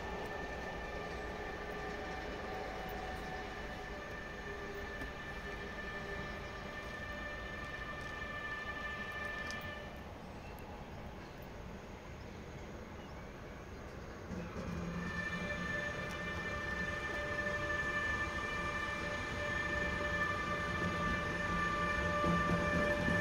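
A train with its locomotive rolls past a trackside spot in Bischofsheim, a steady moderately distant rumble of wheels with sustained metallic squealing tones, easing briefly then growing louder toward the end.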